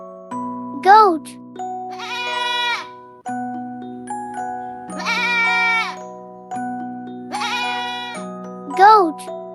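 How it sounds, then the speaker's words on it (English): Goats bleat several times over a bright musical backing, each wavering call clear and prominent, separated by short gaps, set within a children's animal learning song. "goat,"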